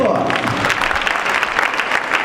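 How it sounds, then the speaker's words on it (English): A town hall audience gives a round of applause, a dense, steady clapping that fills the whole moment, loud and close, with a voice talking over it. "a big round of applause"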